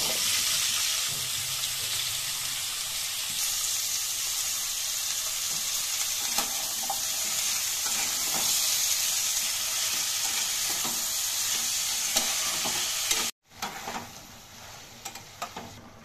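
Tangra fish and potatoes frying for a curry, a continuous close sizzle with occasional stirring clicks that cuts off abruptly near the end, leaving faint kitchen noise and a few soft knocks.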